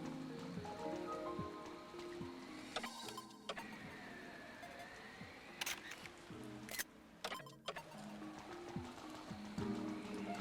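Rain falls in the Pikmin 3 Deluxe video game, a steady hiss of drops layered with game music and sound effects, including a few sharp bursts, with no talking.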